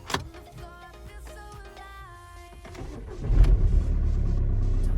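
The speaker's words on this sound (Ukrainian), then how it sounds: "Так, друзі, одразу дивимося, як автомобіль заводиться на холодну." Volkswagen Golf starting from cold: a whirring starter crank with a few tonal whines, then the engine catches and settles into a loud, steady idle.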